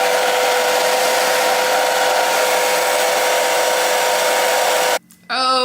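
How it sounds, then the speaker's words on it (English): A hair dryer blows on a 26-inch lace frontal wig, giving a loud, steady, close whoosh with a constant tone that cuts off abruptly near the end, followed by a brief burst of other noise. "let's blow dry this"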